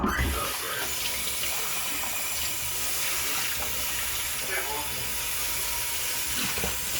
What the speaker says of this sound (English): I need to go and get my measuring cup. Let's rinse, give it a rinse.